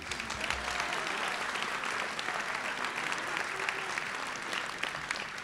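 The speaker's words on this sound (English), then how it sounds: "Can we give them a round of applause?" An audience at a senior class night applauds parents, steady dense clapping filling the room at an even level throughout.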